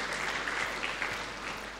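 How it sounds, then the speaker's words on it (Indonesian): Church congregation applauding during a Sunday worship service, a dense, continuous burst of many hands clapping together at even loudness for a couple of seconds. "Tepuk tangan bagi Tuhan kita."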